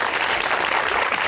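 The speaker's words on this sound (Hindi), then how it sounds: "तालियां।" Dense, loud applause from a studio audience on an Eid special talk show. It is a continuous wash of many hands clapping at once, with no speech on top.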